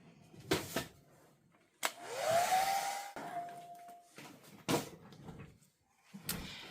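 Hair dryer drying a damp faux leather finish over wood, switching on with a rising whine that holds for a couple of seconds, amid clunks and handling knocks nearby.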